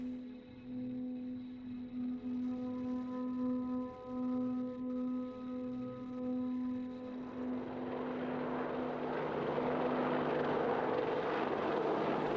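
An Apache Longbow helicopter flies over a forest, its steady rotor drone and tonal engine whine holding near and even before swelling into a louder, broader roar as it passes closer overhead.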